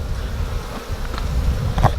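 Honey bees buzz around an open hive during an inspection, a dense steady drone with a few louder individual bees passing close near the end.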